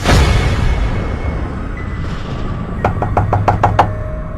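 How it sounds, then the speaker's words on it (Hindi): A quick series of six sharp knocks on a car window, loud and close, following a low rumbling background with no voices. "तभी उसकी गाड़ी की खिड़की पर जोर से एक आवाज हुई"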